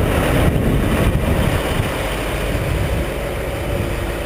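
A heavy engine idles nearby with a low, continuous rumble, slightly louder at the start and then holding steady throughout.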